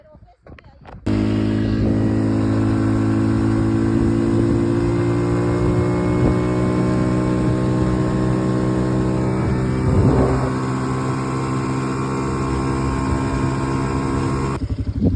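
An ATV engine runs steadily while riding at a salt lagoon in the Andes, a close, loud droning hum with a brief swell partway through and wind noise over it.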